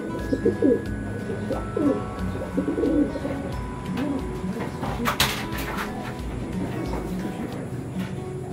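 Pigeons coo in soft, repeated low calls at close range, with a brief rustle and a short knock partway through.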